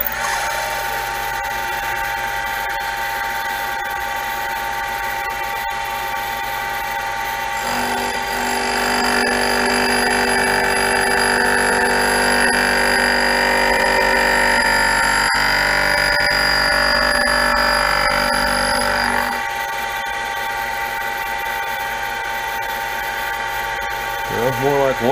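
A K O Lee tool and cutter grinder grinding a metal part: a steady, close mechanical whine with a brighter, louder grinding stretch in the middle as the wheel makes a pass, then easing back to the running hum.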